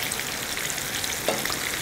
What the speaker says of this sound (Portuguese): colocar mais um pouquinho de água